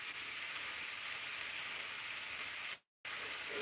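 A burger sizzling steadily while it cooks, a dense continuous hiss that holds until a brief cut to silence near the end and then resumes.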